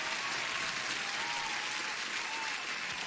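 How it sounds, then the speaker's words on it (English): Dense, continuous applause fills the span as a steady wash of many hands clapping, with no voices over it, played during a live trading session stream. "That deserves an applause, right?"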